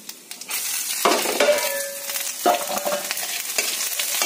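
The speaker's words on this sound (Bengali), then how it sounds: "এটা একটু ভেজে নিই।" Dried chili, black cumin and chopped garlic fry in hot oil, a close, loud crackling sizzle broken by scraping stirs and light clinks of a utensil against the pan.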